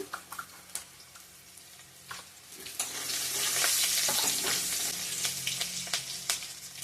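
Chili, bay leaf and panch phoron frying in oil for a fish curry with taro stolons: scattered spatters and stirring scrapes at first, then a loud sustained sizzle swells and settles into crackling, heard close with no voices.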